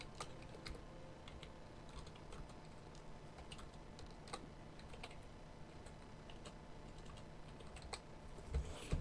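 Steady typing on a computer keyboard, with rapid clicky keystrokes running continuously at close range and a few sharper, louder key hits scattered throughout.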